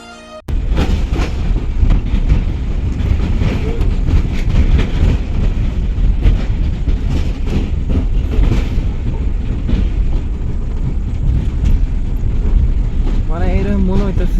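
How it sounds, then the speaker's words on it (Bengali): A vehicle crosses the Dhubri–Fulbari bridge, producing a continuous loud rumbling clatter like a passing train, steady and close for the whole stretch, with a voice faintly heard near the end. "এই ব্রিজে গাড়ি নিয়ে গেলে মানে গাড়ি নিয়ে যাওয়ার সময় এরকম মনে হয় যে রেলগাড়ির যেরকম একটা শব্দ হয়, খাং করে ওরকম একটা শব্দ হয়"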